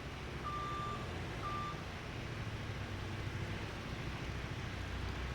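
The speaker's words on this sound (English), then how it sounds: "everything's got to have a backup beeper" Reversing beeper on a vehicle in Farming Simulator 22, two short tonal beeps near the start over a steady engine rumble.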